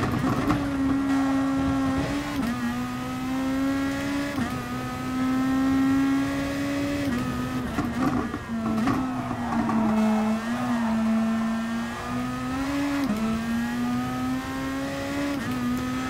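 A race car engine in Gran Turismo Sport holds a steady loud drone, with pitch dips and climbs as gears change and revs rise, and no speech over it.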